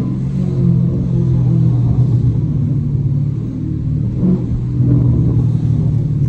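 A Dodge Challenger R/T's V8 idles with a deep, rumbling exhaust, loud and close, the low tone wavering with occasional small pops and burbles.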